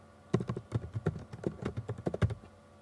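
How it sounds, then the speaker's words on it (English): Quick uneven keystrokes on a computer keyboard, about a dozen close, soft clicks in a short burst of typing, alone in a quiet room. "Type the name My Table"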